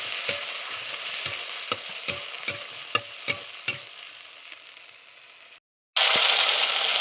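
A paste of ginger, cumin and dry chilli fries in hot oil with a steady sizzle, punctuated by about eight regular spatula scrapes and stirs, then a louder hiss after a brief break.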